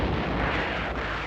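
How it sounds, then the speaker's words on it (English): Naval guns firing a barrage before dawn on the Wolmi-do landing site during the Korean War, heard as a loud, continuous, heavy rumbling roar that fills the whole stretch without a break. "Before dawn on September 15th, the naval guns began their deadly work."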